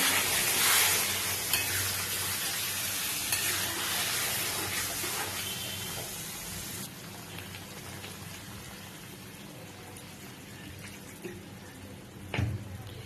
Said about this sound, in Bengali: এইবার একটু একটু করে জল ঢেলে দেবো এর মধ্যে কারণ এটা আমি একটু গ্রেভি রাখবো